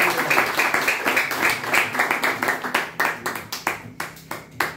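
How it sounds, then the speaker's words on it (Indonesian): A church congregation claps hands together in a steady, loud, rhythmic beat that fills the room, with the pace tightening toward the end. "Tunggu sebelum baca kita tepuk tangan bagi Tuhan."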